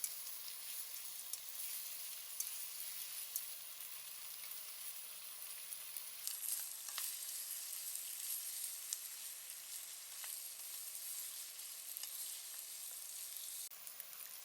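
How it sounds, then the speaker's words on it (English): Beef and vegetables stir-fried in pepper steak sauce over medium-high heat, a soft, even sizzle with faint crackles running steadily throughout, quiet and without voices. "Mix everything all together and cook about 30 seconds more."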